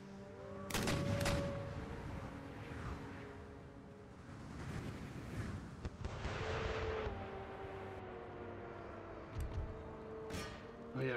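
Howitzer artillery fire in Empire Total War, with booming reports and explosive blasts recurring across the battle amid continuous dense battlefield din, some sharp bursts standing out loud and close.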